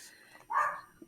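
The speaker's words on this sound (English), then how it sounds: "Sorry, my dog Petey's barking downstairs." A single faint dog bark from downstairs, one short muffled yelp rising briefly out of a quiet room.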